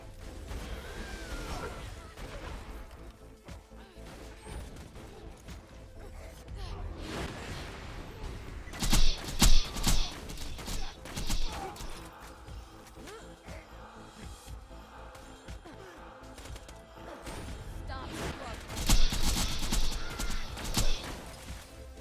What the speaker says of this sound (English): Enough. Throwing grenade!